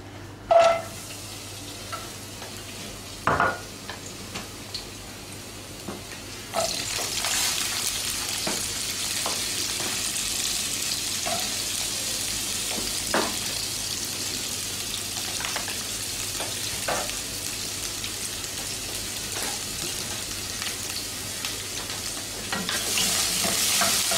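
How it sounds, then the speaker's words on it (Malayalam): Vegetables, including peppers, sautéed in a pan: a quiet start with a few isolated knocks, then a sustained sizzle from about a third of the way in, broken by occasional spatula taps and scrapes. "വേഗം വെജിറ്റബിൾസ് ഒന്ന് സോട്ട് ചെയ്തെടുക്കാം"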